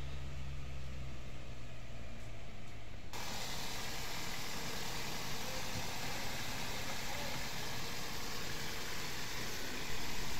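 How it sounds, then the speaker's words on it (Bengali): A car engine, after repair work for poor pickup and misfiring, starts and settles into a steady idle, a faint continuous hum after a brief low rumble at the start. "গাড়ি স্টার্ট করছে এবং আলহামদুলিল্লাহ খুব সুন্দর চলতেছে"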